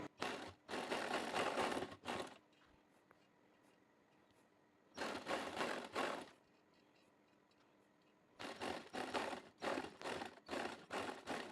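Bursts of a sewing machine stitching lace onto trousers, three runs of rapid mechanical whirring separated by quiet pauses, close by.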